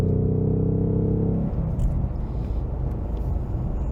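A stock Ford Mustang Mach 1 with a Coyote V8 rumbles with a deep, throbbing low note up close, easing off to a lighter steady drone partway through, with no talk.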